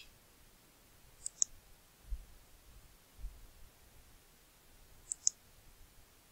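Two quick pairs of faint computer mouse clicks, one pair early and another near the end, set against a quiet room hum with a few low thumps in between.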